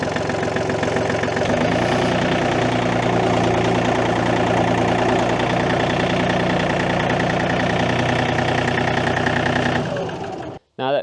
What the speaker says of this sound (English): we're gonna hop up here on the tractor, fire it up